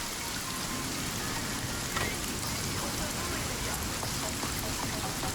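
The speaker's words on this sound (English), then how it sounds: "the rain is so loud." Steady, heavy rain falls in the survival video game Sons of the Forest, a dense continuous patter that fills the whole stretch with no break and no voices on top.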